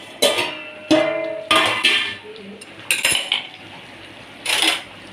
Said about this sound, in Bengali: দেখো এবার ঢাকনা খুলছি।